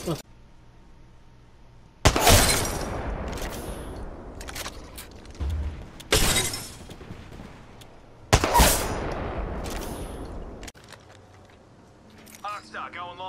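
Video game gunfire comes in three loud, sharp bursts, each decaying into a rumbling tail, separated by quieter stretches with faint background noise and a few scattered smaller shots, with some talk mixed in.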